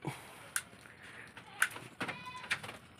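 Goats bleat at a small livestock pen after rain, with several short, thin bleats scattered far and near over quiet outdoor background.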